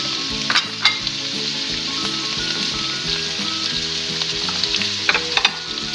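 Chicken, capsicum and chopped carrot sizzle steadily in hot oil in a pan while cooking for chicken macaroni, a constant loud fry with a few sharp crackles and scrape-like bursts, no talking.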